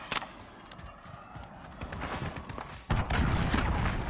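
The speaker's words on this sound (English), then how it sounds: "Enemy cruise missile, take cover." An enemy cruise missile strike in Call of Duty: Modern Warfare sets off rumbling blasts and thuds, with a sudden heavy impact near the end that leaves a loud, sustained roar.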